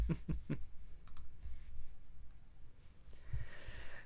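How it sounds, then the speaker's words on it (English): Several sharp computer mouse clicks come close together near the start, with a few fainter ones later, over quiet room noise and no speech. "sorry clicking on some things"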